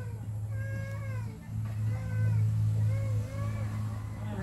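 A cat meows several times in a row, drawn-out rising and falling calls heard close, over a steady low background hum.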